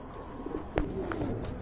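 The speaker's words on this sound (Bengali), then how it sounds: "আরেক জোড়া লক্ষা কবুতর" Lakkha pigeons, a pure white pair, give soft low coos alone in a quiet room, with a brief sharper call partway through.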